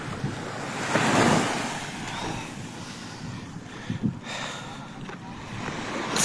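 Strong wind gusts by the sea during net fishing, buffeting the microphone in a rushing roar over crashing surf, loudest early on and easing later.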